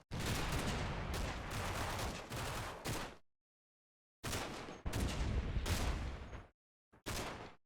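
Gunfire in the World War II strategy game Combat Mission: Battle for Normandy comes as dense bursts of loud shooting, broken by abrupt silent gaps, with no talk.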